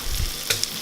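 Breaded chicken strips sizzle in butter in a non-stick pan, a steady close crackling fry with a couple of brief sharper spits.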